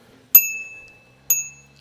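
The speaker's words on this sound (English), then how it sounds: "It's like a bell for the costume. Bell? Bell for the coffee shop." A small metal bell, like one hung over a coffee shop door, is struck twice about a second apart, each a bright, loud ding with a clear ringing decay in near silence.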